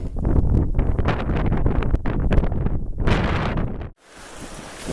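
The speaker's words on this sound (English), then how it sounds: "It's a bit windy up here." Heavy wind buffets the microphone in loud, rumbling gusts for several seconds, then drops suddenly to a softer, steady hiss.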